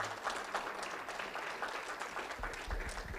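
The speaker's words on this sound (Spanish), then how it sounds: "Denle un aplauso al Señor en este día." Church congregation clapping for the Lord during a Spanish-language sermon, a brief, moderately quiet patter of hands with a low rumble beneath, no speech over it.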